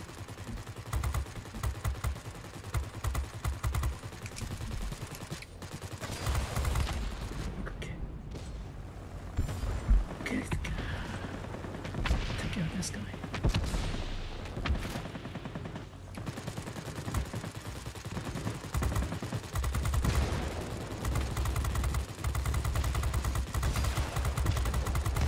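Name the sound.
aircraft machine guns firing in World of Warplanes video game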